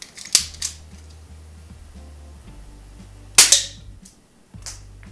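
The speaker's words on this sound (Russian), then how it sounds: "внедрить в нее вот такой вот пистолетик, который стреляет" A small toy pistol fires pellets with two sharp, loud snapping shots a few seconds apart, close by, over a low steady hum.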